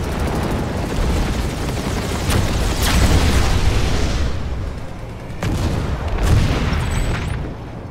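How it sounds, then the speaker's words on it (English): A generator exploding in the Planetside video game, heavy rumbling booms and blasts rolling across several seconds, loud and dense with repeated bursts. "Generator destroyed."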